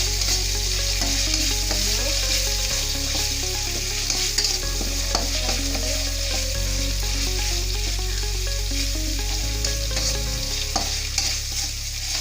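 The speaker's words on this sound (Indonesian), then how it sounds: "Aduk Bunda biar nggak gosong ya." Spice paste frying and being stirred in a pan, a steady sizzling hiss with occasional scraping strokes, heard under continuous loud background music throughout.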